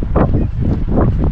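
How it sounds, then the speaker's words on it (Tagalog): Strong wind gusts roar loudly into the microphone outdoors in short, rough bursts that rise and fall over a brief moment. "Grabe yun ang hangin"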